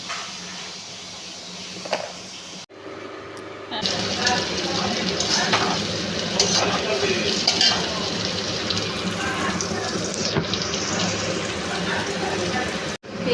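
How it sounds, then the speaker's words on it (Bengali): Onions frying in a pan with stirring, a steady broadband sizzle that holds loud and continuous for most of the stretch after a brief quieter opening, with scraping accents from the stirring. "পেঁয়াজটা ভাজা হয়ে গেছে,"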